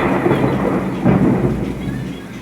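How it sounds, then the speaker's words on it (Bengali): Heavy thunderstorm outdoors in Kolkata, with a dense, steady downpour and low rolling thunder swelling twice, loud and close, with no voices. "বাইরে কিরম জোরে বৃষ্টি হচ্ছে আর বিদ্যুৎ চমকাচ্ছে"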